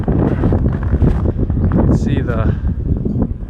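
Strong gusty wind buffets the microphone on a snowy farm in bitter winter cold, a steady roar with surging gusts heard close, while a person talks over it.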